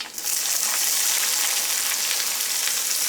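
Onion added to hot coconut oil with cumin for a kovakka thoran gives off a loud, continuous, hissing sizzle that begins abruptly and holds steady throughout, with no voices.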